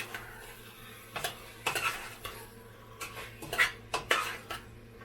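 Chicken is stirred in a cooking pot for Guyanese-style chicken and cabbage. A utensil repeatedly scrapes and clinks against the pot at close range over a soft sizzle, with no one talking.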